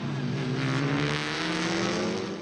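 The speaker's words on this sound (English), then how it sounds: "Girolami flung the Honda into Turn 1 and went around the outside of Bart to move into the race lead." TCR touring race cars, including a Honda, roar past at racing speed, a loud continuous engine drone with steady harmonic tones that swell and hold for the whole moment.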